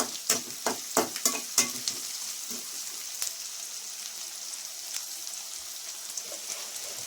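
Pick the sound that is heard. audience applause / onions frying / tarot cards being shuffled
onions frying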